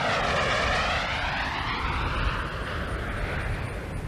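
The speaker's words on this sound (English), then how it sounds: "Atlantis rolling out on runway 33 at the Kennedy Space Center" Space Shuttle Atlantis rolls out on runway 33 at Kennedy Space Center after touchdown, heard as a loud, steady roar and rush of wind with a falling whine across the whole stretch.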